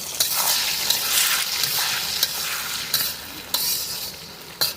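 Potatoes and tomatoes sautéed with spices and a splash of water in a pan, giving a steady close hiss with the scrape of a stirring spoon and a few sharp clinks, no voices.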